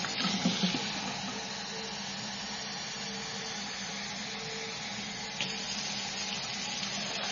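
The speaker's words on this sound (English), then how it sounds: "8 cups of water, so I'm right here by the" Warm water running from a sink tap into a bucket, a steady soft rushing stream with a few small knocks, fairly quiet and continuous.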